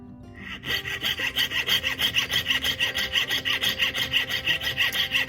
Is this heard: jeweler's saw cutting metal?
yes